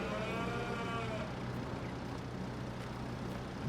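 Cattle moo in Farming Simulator 22, a drawn-out low bellow near the start over a steady background hum, with no talking.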